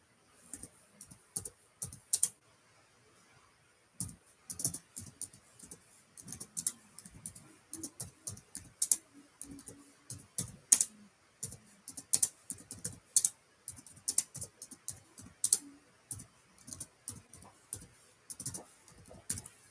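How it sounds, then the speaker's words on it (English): Fast, uneven bursts of keystrokes clatter on a computer keyboard, close and fairly quiet, running steadily with short pauses between flurries. "let's do some typing here"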